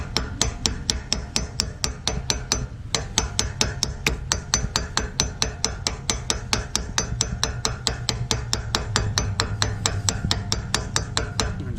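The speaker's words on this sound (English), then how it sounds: "just tap it in gently with a hammer" Rapid, steady metallic tapping, a hammer striking a bearing buddy into a boat trailer hub repeatedly in an even rhythm, close and fairly loud, with no talking.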